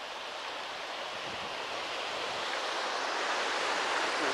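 Ocean surf at Sea Isle's 59th Street raft beach, a broad, continuous wash of breaking waves that grows slightly louder toward the end, with no voices.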